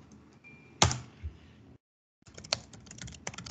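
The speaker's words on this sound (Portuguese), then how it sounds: "Agora eu vou digitar" Bursts of typing on a computer keyboard, close and fairly quiet, with a short pause midway before a busier run of rapid key clicks.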